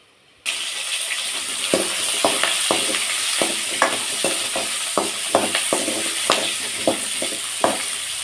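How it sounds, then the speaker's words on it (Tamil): Onion and tomato sautéing in a pan for a drumstick-leaf curry, a steady loud sizzle that begins abruptly, broken by regular clacking strokes of a spatula against the pan. "இப்போ வெங்காயம் தக்காளி நல்லா வணக்கிக்கலாம்"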